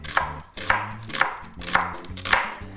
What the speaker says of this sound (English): I'm just going to chop the remaining bit of red onion.